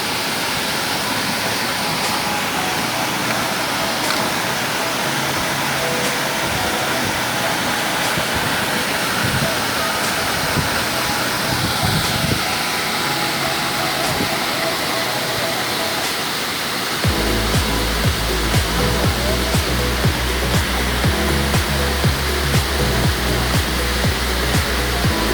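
Vilangad waterfall in Kozhikode roars as a dense, continuous rush of falling water, loud and close throughout, growing heavier and deeper partway through.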